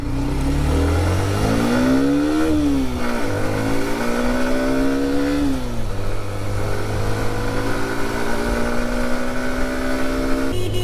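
A Hero Xtreme 125R motorcycle on its first ride revs up and pulls through the gears, its engine note climbing, dropping at each shift, then holding a steady drone close by.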